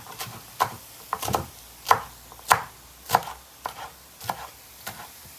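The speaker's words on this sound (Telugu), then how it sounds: "అలాగే కొత్తిమీర కూడా సన్నగా కట్ చేసి పక్కన పెట్టుకోవాలి" A knife chops coriander finely on a board, about a dozen crisp close taps in an uneven rhythm with short quiet gaps between them.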